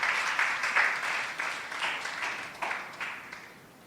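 A church congregation applauds after a call to praise the Lord, a steady wash of mid-distance clapping with no voices on top, softening slightly toward the end.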